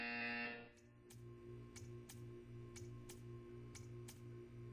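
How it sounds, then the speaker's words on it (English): Buzzer in the Portal 2 video game: a loud tone cuts off, then a low droning hum pulses under a series of sharp, evenly spaced ticks, roughly once every half second. "You will hear a buzzer. When you hear the buzzer, stare at the art."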